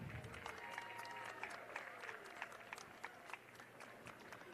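Crowd at the 2023 NIKE FC Cup Final football match between FC Bulleen Lions and Calder United applauds the match officials, a steady, fairly distant wash of clapping with scattered sharper individual claps throughout.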